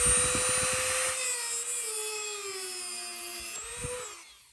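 A power tool runs steadily and close by on a bolt in the floorboard of a Porsche 911, its whine drifting slightly lower as it cuts, then briefly rising before stopping.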